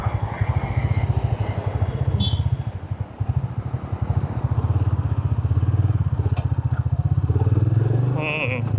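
A Royal Enfield Meteor 350 motorcycle is ridden on a test ride, its steady, loud engine thump running continuously up close, with wind and road noise and a brief higher whine near the end.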